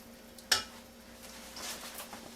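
A spatula scrapes and stirs onions and cream cheese in a pan, opening with one sharp metallic knock followed by quiet, low sizzling and soft scraping strokes.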